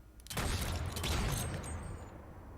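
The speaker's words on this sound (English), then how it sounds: "Oh, the echoing on that gunshot. It's beautiful." An echoing gunshot in the sci-fi TV series The Expanse, a sharp crack that booms out and rolls into a long, fading reverberant tail.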